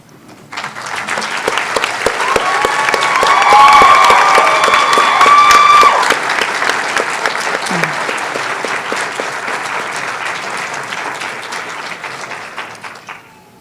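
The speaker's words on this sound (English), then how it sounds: "Graduates, please stand and give a round of applause for your loved ones here today." Graduates at a 2019 NC State veterinary medicine oath and hooding ceremony applaud their families, a broad sustained wash of clapping from a large indoor crowd that swells, then slowly fades, with faint cheers and a brief tonal sound near the start.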